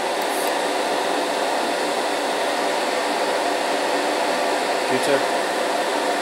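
A paint spray booth's extraction fan runs steadily throughout as an even, broadband whoosh at constant level, with a brief faint voice near the end.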